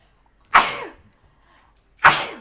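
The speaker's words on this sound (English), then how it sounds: "I think I'm gonna sneeze." Two sharp sneezes from one person burst out about a second and a half apart, each loud, close and breathy, with quiet between them.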